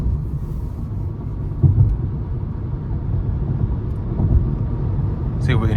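A 2023 Nissan Leaf S electric car accelerating hard, heard from inside as a steady low road and motor rumble that swells slightly, with a brief higher whine near the end.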